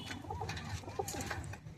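Pet pigeons, including teddy-type birds kept for sale, coo softly in a few short low murmurs against faint background noise.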